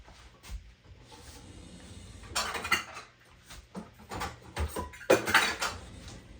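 Eggs are cracked and added into a bowl of flour for rosemary bread, making a series of sharp clinks and taps against the bowl, with a few louder knocks near the end and quiet handling noise between.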